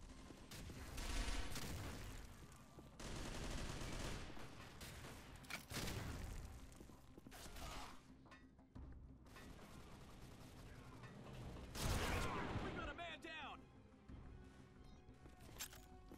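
Dragunov sniper rifle fire mixed into a busy video game firefight, with repeated sharp gunshots and bursts of other weapons at varying distances, mechanical clatter between shots and a dense, continuous battle din throughout.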